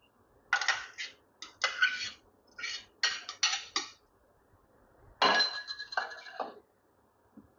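Boiled whole urad dal tipped into a kadai of simmering water and stirred in, heard as a run of bright clinks and scraping bursts of a spoon against the metal pan, close and fairly loud.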